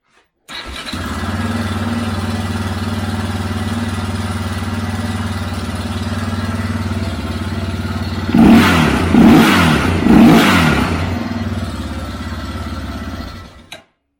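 2001 Yamaha Raptor 660 ATV engine being brought back to life. It starts and idles steadily at close range, then takes three sharp throttle blips before shutting off, with no voices.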